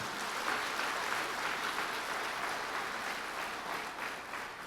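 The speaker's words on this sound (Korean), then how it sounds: "우리 하나님 영광의 박수 올려드리겠습니다." A congregation at a closing worship service gives applause, a steady wash of many hands clapping at moderate distance that continues evenly throughout.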